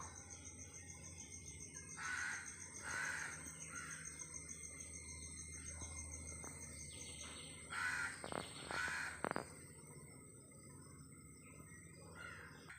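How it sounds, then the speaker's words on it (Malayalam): A crow caws several times in short pairs, fairly close in a house yard, over a steady high-pitched trill of crickets. "കാക്ക കരയുന്നുണ്ടല്ലോ"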